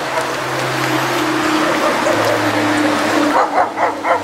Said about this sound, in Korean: 이 동네 뭐 개가 이래 많아